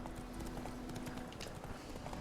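Horse hooves in The Witcher 3 video game, a steady clip-clop of hoofbeats at a quick even pace, close and clear, with faint game background under it.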